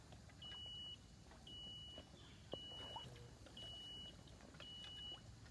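An electrofishing unit at a stream riffle beeps while switched on: five regular high-pitched electronic beeps about once a second over a faint background hum, steady and evenly spaced.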